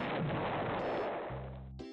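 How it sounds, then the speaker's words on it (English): A balloon-popping video game sets off a loud, dense burst of crashing explosions lasting about a second, which gives way to steady electronic game tones and a bright chime. "Good explosions."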